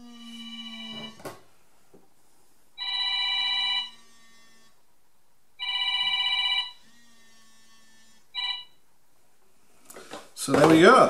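A red 1974 GPO 746 dial telephone bell rings in three bursts of about a second each with pauses between, then a brief clatter and a short final ring.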